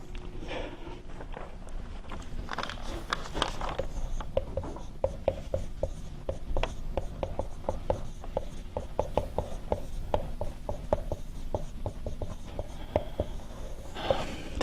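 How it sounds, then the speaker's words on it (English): Hand writing during a lecture on thermal analysis coupling, a pen or marker scratching in quick strokes with steady taps, close and continuous and with no voice over it. "let me just write a few things"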